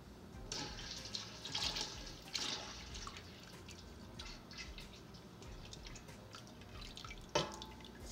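Melted oils and butters for an emulsified body butter pour into water, giving soft dripping, trickling splashes with a few brief louder spatters, close and quiet, with no talking.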